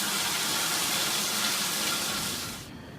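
Water rushes from the drain valve of a hot water heater in a loud, steady gush that cuts off sharply near the end.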